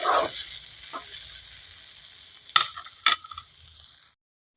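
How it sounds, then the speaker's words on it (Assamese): Leafy greens fry over a low flame with a soft, steady sizzle, broken by two sharp scraping stirs of a spatula in the pan before the sound stops. "এতিয়া এইখিনি মই কম জুইতে অলপমান সময় ভাজি থাকিম"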